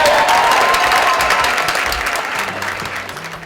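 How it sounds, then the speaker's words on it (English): A large crowd at a National Federation of the Blind seminar in Washington DC applauds and cheers after a speech, a dense, loud wash of clapping that slowly tapers off. "The crowd is cheering and several are standing up out of sheer respect for his marvelous speech"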